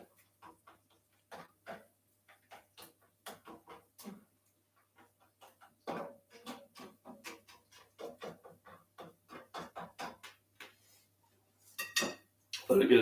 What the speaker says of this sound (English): I'm going to stir it in the pan